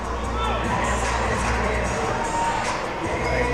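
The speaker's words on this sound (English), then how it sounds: "Nice crowd here today." A college men's basketball crowd in a campus gym cheers and shouts steadily, with children's voices in the mix, a dense roar lasting throughout.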